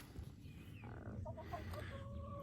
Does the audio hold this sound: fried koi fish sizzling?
no